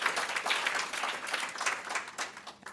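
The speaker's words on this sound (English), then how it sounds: "let's give them a round of applause" Applause for a working group at a meeting: a steady patter of clapping from a modest group, moderately quiet and continuous throughout.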